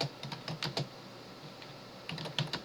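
Bursts of typing on a computer keyboard, quick clusters of key clicks close to the mic, pausing briefly in the middle before another burst at the end.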